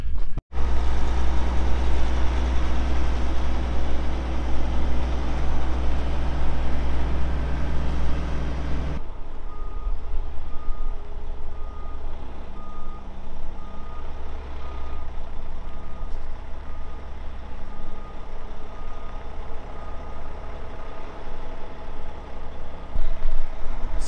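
A truck delivering fertiliser drives into a farm yard, its engine rumbling loudly and close at first. It then settles to a lower running sound as a steady reversing beep repeats over it.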